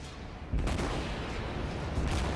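Naval gunfire in the World of Warships video game, a sustained dense barrage of booming shots that swells louder partway through and keeps rumbling steadily.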